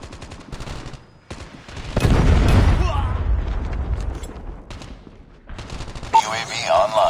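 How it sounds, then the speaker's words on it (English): Explosive predator missile strike and bursts of rapid gunfire from the Call of Duty Mobile video game, a heavy boom swelling into sustained rumble and crackling shots, with game voice announcements over the top. "Predator missile inbound."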